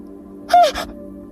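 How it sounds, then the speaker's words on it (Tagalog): A single crow lets out one loud, harsh caw followed by a shorter second call, sharp against a quiet night background with a faint steady hum. "Yung aswang na ibon, nasa itaas ko."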